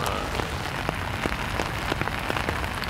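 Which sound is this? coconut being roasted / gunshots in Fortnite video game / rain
rain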